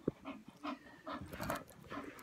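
An English Bull Terrier pants rhythmically close by, quick breathy huffs roughly every half second, fairly soft with a faint whimpery edge and no talking.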